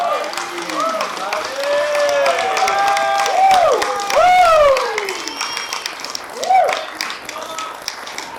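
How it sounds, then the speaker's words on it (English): Wedding guests applaud the bride's dad in a sustained burst of clapping that swells and then tapers, with voices and cheering calls rising over the crowd. "I think this is a good time to just applaud my dad"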